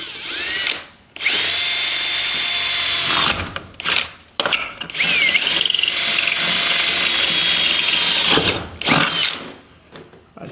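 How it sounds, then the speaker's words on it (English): A power drill whines loudly and close as it bores holes through a box truck roof from the inside, two long sustained bursts with brief pauses and clunks between them. "I'm going to need to drill some holes from the inside."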